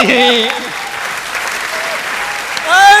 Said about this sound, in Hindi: अब आपकी तालियां आई